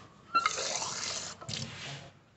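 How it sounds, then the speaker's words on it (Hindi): Tap water runs into a measuring cylinder during a school biology soil practical, in two close bursts of splashing flow with a brief break between them and no talk. "इसमें पानी भरो"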